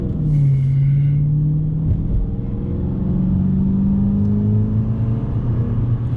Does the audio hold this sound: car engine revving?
yes